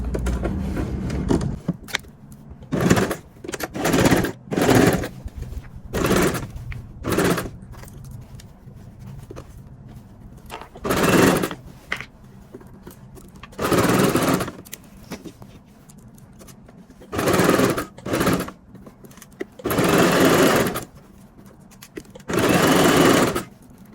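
A sewing machine stitches the crotch seam of men's trousers in repeated short bursts of fast, loud motor whirring, separated by quiet gaps while the fabric is repositioned.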